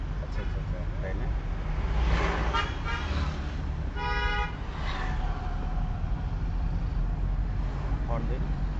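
A car honks once on a driving lesson in Sylhet, a short pulsing toot under steady engine and road rumble. People talk quietly inside the car.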